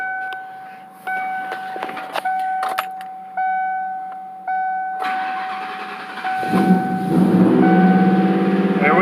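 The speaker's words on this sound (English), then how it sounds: "I'm going to turn the key on and let it air up first." Inside a 1993 Lincoln Mark VIII, the key is switched on and the air suspension pumps up: repeated chimes and clicks, then a compressor whir that builds and grows louder near the end.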